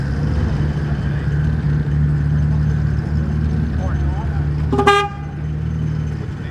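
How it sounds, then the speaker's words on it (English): A single short car horn blast sounds at a drag racing tech inspection day, clear over a steadily idling engine and surrounding background noise. "What junkyard you stole that horn from?"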